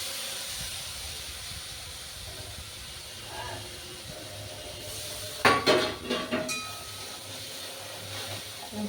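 A paste of chilli, cumin and coriander powders sizzles and hisses steadily in hot oil for a cauliflower curry, with a short burst of clattering utensils against the pan midway.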